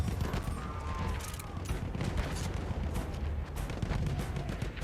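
Rifle fire from an M1903 bolt-action in the shooter game Battlefield 1, heard amid a dense, continuous din of battlefield gunfire and explosions, loud and close throughout with no talking.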